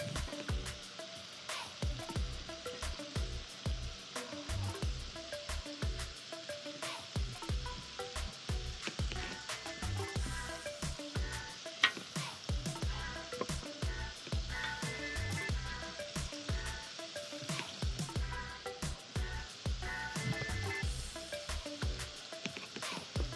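Burger meat sizzles steadily in a hot pan, a close, continuous crackling fry with occasional scraping, no talking over it.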